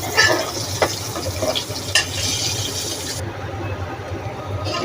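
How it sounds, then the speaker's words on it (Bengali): Salt, turmeric and chilli powder sizzle in a hot pan while a spatula stirs and scrapes the spices, with a steady frying hiss and a few sharper clinks near the start. "নুন মরিচ হলুদ এগুলো দিয়ে দিচ্ছি, এগুলো কষাচ্ছি"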